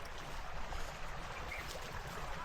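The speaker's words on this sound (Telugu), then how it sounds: "కింద మా వాటర్ ఫ్లో అయితే పోతూ ఉంది" Stream water flows steadily below a rough, thorny trail toward Thammarajupalle waterfalls near Kurnool, a soft, even rushing hiss that stays faint and continuous throughout.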